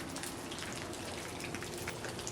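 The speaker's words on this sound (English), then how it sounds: "Raining like crazy. The wind's blowing." Heavy rain pours steadily with wind during a trip in Vermont, a dense continuous hiss of drops close by with no talk.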